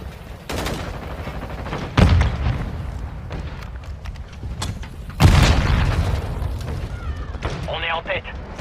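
Airstrike explosions boom twice in the Call of Duty Warzone Mobile video game, heavy blasts landing amid rattling gunfire, with a game announcer voice speaking over the action.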